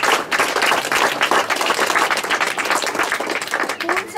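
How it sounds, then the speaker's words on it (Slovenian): Applause from the audience at a group exhibition opening in Domžale, honoring all the group leaders and members; dense, steady clapping from many hands fills the whole stretch, close and loud, with a voice briefly audible near the end. "Jaz bi en velik aplavz za čisto vse voditelje in vse člane in vse skupine prosila."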